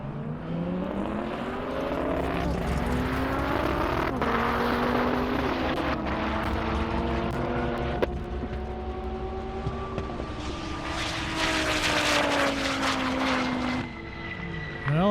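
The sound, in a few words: Dodge Viper launching on airstrip speed run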